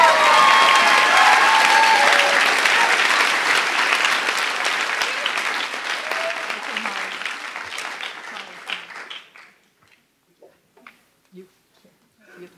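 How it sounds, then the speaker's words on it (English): Audience at a graduation ceremony gives a long round of steady applause, loud and dense at first, then thinning into scattered claps before fading to near silence. "let's applaud Taylor"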